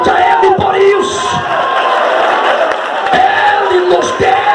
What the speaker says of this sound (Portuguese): Aplaude a Ele por isso.